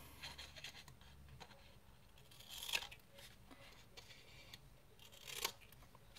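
Scissors cut paper at an angle while an envelope is made, giving soft, close snipping and slicing scrapes with two louder cuts standing out, no talk.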